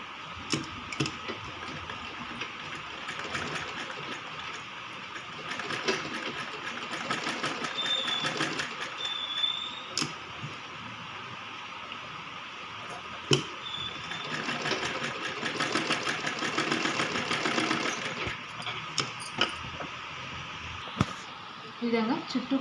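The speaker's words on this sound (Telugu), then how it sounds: "స్టిచ్ చేసుకొని మొత్తం చుట్టూ కుట్టుకుంటూ రావాలి" A sewing machine stitches around a baby frock with a fast, steady mechanical whir and ticking. It pauses briefly and restarts several times, close and moderately loud, while a voice explains the work over it.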